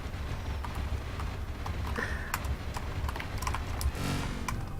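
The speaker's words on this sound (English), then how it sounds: "I'm just pressing every single button on my keyboard, seeing if something is happening." Keys on a computer keyboard pressed rapidly and at random during a video game called Tembo The Not-So-Badass Elephant, irregular clicks scattered over a steady, noisy game background.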